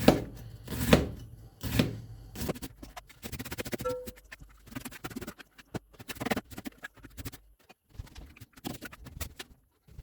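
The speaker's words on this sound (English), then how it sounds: "slice it like this, making sure that it's not too long" A knife slices a vegetable into short strips for okonomiyaki with a run of crisp, irregular chopping knocks on a board, close and clear, some strokes louder than others, with quieter scraping between cuts.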